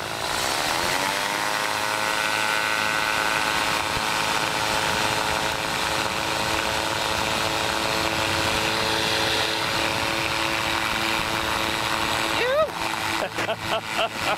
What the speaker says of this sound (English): Lightsport trike departing runway 17 south to the beach.